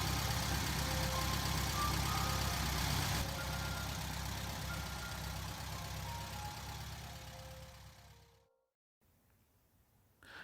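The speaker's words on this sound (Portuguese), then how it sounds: "ouviu o motor do carro ligar e o veículo ir se afastando" A car engine runs and hums steadily, then fades gradually as the vehicle pulls away, ending in a brief silence before faint ambient sound returns.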